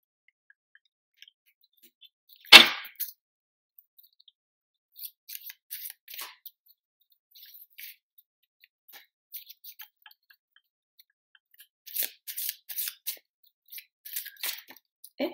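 Stiff tarot cards being shuffled by hand make one sharp snap, then sparse, quiet ticks and soft riffling bursts scattered through near silence.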